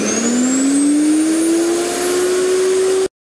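A Parkside garden shredder from LIDL runs empty with no material fed in, a loud, steady motor whine that rises slightly in pitch and holds for about three seconds before cutting off abruptly.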